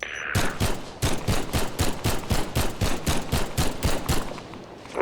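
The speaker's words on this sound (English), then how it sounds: "So you can hold left click to shoot fast like this." A weapon in Garry's Mod with a Half-Life: Resurgence addon fires rapid gunfire, about eighteen sharp, evenly spaced shots in a steady burst lasting several seconds, loud and close with no talking.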